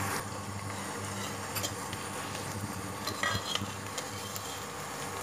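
Chopped onions sizzle steadily in mustard oil in a pan, a close, continuous frying hiss with occasional scrapes and clinks of a stirring utensil, no voices.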